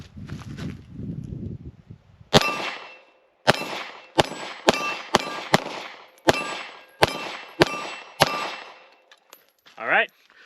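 Ten sharp pistol shots from a Ruger LCP MAX pocket gun crack in quick, uneven succession, each loud and close with a ringing tail, preceded by a voice and followed by a brief sound at the end.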